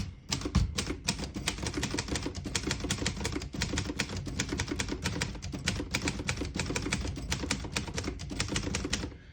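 Rapid, continuous keystrokes on a 1958 Hermes 2000 portable typewriter clatter up close in a brisk, uneven rhythm, with no voices.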